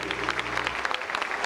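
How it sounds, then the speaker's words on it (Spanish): Loud, steady applause from an audience at a Father's Day celebration at a town hall in Tultepec, Mexico, honouring the fathers. Dense, continuous clapping fills the whole moment, with faint voices mixed in. "Quiero un fuerte aplauso de toda la concurrencia para los papás"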